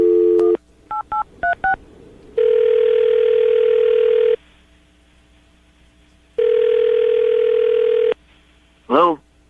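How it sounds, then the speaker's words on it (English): Landline phone handset being dialed: a short dial tone, then a quick series of distinct touch-tone beeps, followed by two long steady ringback tones with a pause between them, clear and close. "we're about to dial the phone number right now, get him on the phone"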